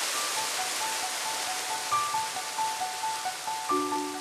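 Winter waterfall deep in the Seoraksan mountains, water plunging down in a steady, dense rushing roar that fills the whole stretch, with faint thin tones drifting above it.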